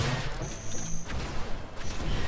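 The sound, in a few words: flak cannon shot in video game Unreal Tournament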